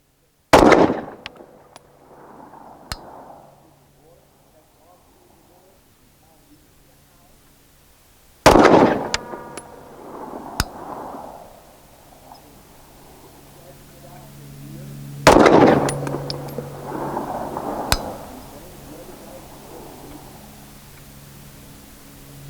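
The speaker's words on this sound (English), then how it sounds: "Make sure you have that dot lined up on the same spot before you break that trigger." A pistol fitted with a red dot sight fires three single gunshots at an outdoor range while the sight is zeroed, each loud, sharp crack followed by a long echoing tail and spaced several seconds apart.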